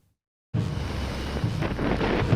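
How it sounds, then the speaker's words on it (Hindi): Strong wind from Cyclone Tauktae buffets the microphone in Mumbai. After half a second of silence, a loud, roaring gusty rush begins and keeps swelling in waves. "मुंबई में तेज हवाओं के साथ जबरदस्त बारिश हुई है।"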